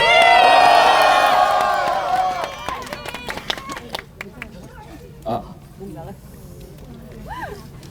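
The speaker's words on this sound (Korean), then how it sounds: "큰 박수 부탁드립니다." An audience at a Dankook University student rally cheers and claps as a speaker is introduced, loud at first and then thinning to scattered claps, with voices mixed in.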